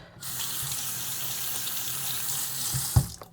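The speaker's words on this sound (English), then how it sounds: "I need to rinse my hands though" Tap water runs steadily into a sink while hands are rinsed, a close continuous splashing hiss for a few seconds that ends with a brief clunk as the flow stops.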